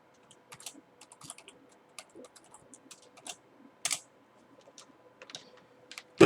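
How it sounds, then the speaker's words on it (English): A password is typed on a computer keyboard in a quiet room, with irregular clusters of close key taps and a few sharper presses, including one louder clack at the end. "Okay, putting in my password."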